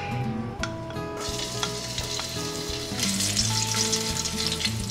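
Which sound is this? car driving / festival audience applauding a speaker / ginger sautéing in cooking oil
ginger sautéing in cooking oil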